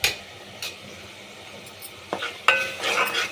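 Masala paste for goat head curry frying in a pan, a steady sizzle with scattered spoon scrapes and stirring clatter, close and fairly quiet, with no talk.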